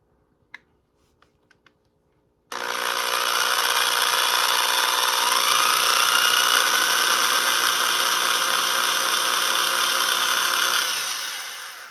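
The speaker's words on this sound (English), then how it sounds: "So I'm going to go back to drilling and just be as careful as possible and try to get in" Power drill boring into a plastic anime figure during a repair: a few faint taps, then a loud, steady high-pitched whine of continuous drilling that runs for about nine seconds, fading slightly at the end, with no talking.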